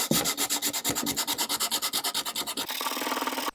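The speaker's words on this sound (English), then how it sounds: "I'm just going to do a tiny bit of sanding just so it all looks nice and tidy" Rhythmic back-and-forth sanding across the surface of an antique wooden table from the 1700s, close and scratchy with evenly spaced strokes, ending in a brief steadier rub.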